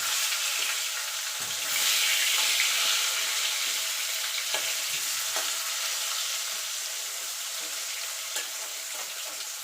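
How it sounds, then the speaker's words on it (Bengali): Potato pieces fry in hot oil left over from frying boal fish, giving a continuous dense sizzle with small crackles, close and even, with no voices. "এবার এই তেলে আলুটা ভেজে নেব।"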